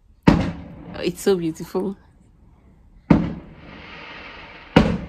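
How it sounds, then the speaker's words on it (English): Fireworks explode outdoors at a family gathering at night, three sharp booming bursts spaced a few seconds apart, the middle one trailing into a crackling fizz, with a voice speaking briefly between the first two. "I'm just enjoying the fireworks going on outside."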